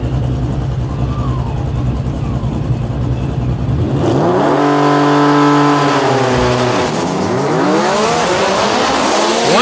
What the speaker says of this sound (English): So the flat black GTR coming up for a single pass here on the right-hand side.